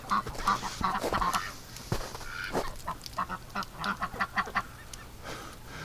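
Several ducks in water quack in quick bursts in winter, close by, with a rapid run of quacks toward the end over a faint background.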